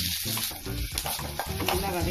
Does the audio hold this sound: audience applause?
no